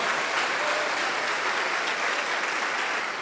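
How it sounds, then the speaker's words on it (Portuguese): A church congregation applauds during a sermon, a steady wash of many hands clapping at moderate volume, continuous and even for a few seconds with no voices on top. "Vamos dar uma salva de palmas para o nosso Pai."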